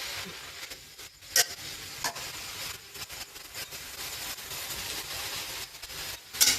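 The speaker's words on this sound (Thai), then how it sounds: "โอนให้มันโดน น้ำมัน ทุกดอกนะ เห็นไหมพอผัดแล้วมันก็จะเหลือแค่นิดเดียวเอง" Sesbania flowers stir-fry in oil, a steady sizzle with scraping and stirring of a utensil in the pan, close and moderately quiet, with a few sharper clinks.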